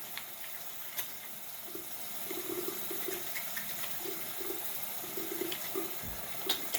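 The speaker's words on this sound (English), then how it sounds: "I wash my hands and make sure I do that nice and thoroughly." Hands washed under running tap water with soap, a steady soft faucet hiss with faint splashes and small handling noises, no talking.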